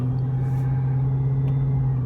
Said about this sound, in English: You can hear a little bit of that blower whine from underneath the hood.